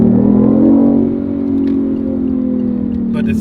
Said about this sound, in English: Most of the time you're gonna hear the engine through the speaker,